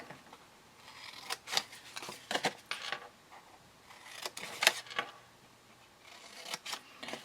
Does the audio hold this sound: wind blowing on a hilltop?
no